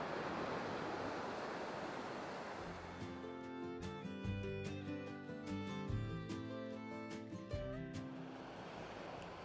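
Surf rolls onto White Sand Beach in Khao Lak, Thailand, as a steady broadband wash. Melodic music enters after a few seconds and partly covers the waves, with no talking.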